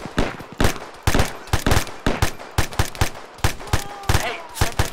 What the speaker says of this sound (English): Hey, someone's shooting at us.